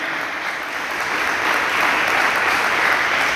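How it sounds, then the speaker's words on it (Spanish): A church congregation applauds God in a steady, loud wash of clapping from many hands, filling the room and swelling slightly toward the end. "Le damos una fuerte ofrenda de palmas a nuestro buen Dios"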